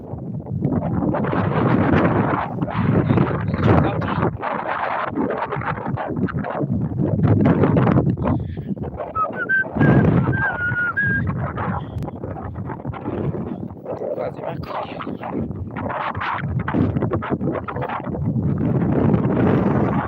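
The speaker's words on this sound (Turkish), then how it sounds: "Şu anda öyle bir rüzgar esiyor ki" Strong wind buffets and roars across the microphone in gusts, loud and steady throughout, with no clear speech.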